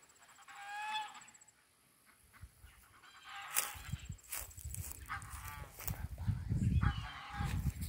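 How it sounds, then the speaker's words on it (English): Ducks or geese honk repeatedly, loud and close, in uneven bursts that grow busier and overlap toward the end, with outdoor background noise. "they're honking and wanting us to come back"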